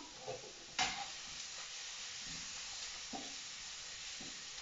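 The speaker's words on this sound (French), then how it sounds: "alors je vais remuer avant que ça crame" Leeks and salmon sizzle in a pan while being stirred, a quiet steady frying hiss broken by a few sharp scrapes and clinks of the utensil, close and faint.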